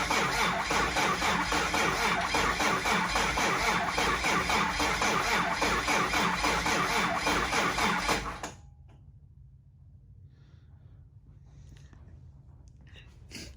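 A 2005 Cummins 6.7L diesel engine cranking hard on a low battery without firing, a loud, steady, rapid churning starter rhythm that cuts off abruptly, leaving quiet background.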